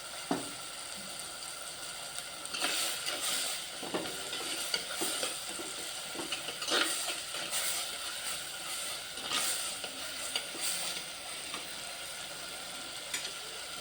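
Ingredients sautéing in a pan for brinjal thokku: steady sizzle with repeated bursts of stirring and spatula scrapes, close and moderately loud, no voices.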